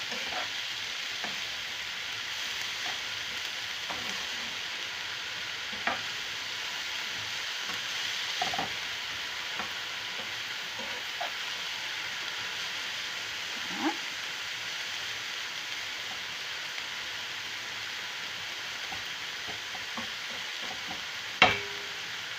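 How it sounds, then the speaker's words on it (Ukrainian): Grated carrot and onion frying in a pan with mushrooms nearby, a steady sizzle with scattered clicks of a utensil stirring, fairly quiet and close, with no one talking. "І буду готувати її разом із цибулькою. Ось так. Я все перемішую"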